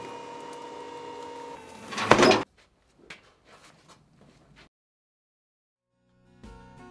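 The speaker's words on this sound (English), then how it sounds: "You eject the bale by a safe, two-handed operation." A Bramidan B30W waste baler gives a steady mechanical hum, then a loud burst of scraping and rustling as the bale is ejected, followed by scattered thuds and a brief restart of the motor.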